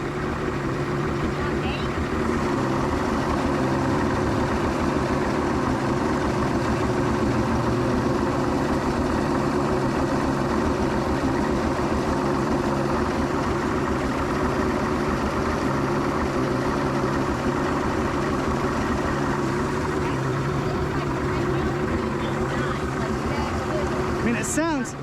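A 1999 Johnson 200 HP V6 outboard motor idles steadily and close for the whole stretch, a continuous low rumbling drone, being tuned for ignition timing.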